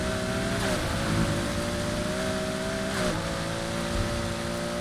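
A race car engine drones steadily in Need for Speed Heat, holding a loud, sustained tone with brief pitch dips as gears shift and the revs climb again.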